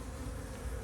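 Honey bees in an apiary hive make a faint, continuous buzzing hum that stays close and steady through the short moment, with no voices.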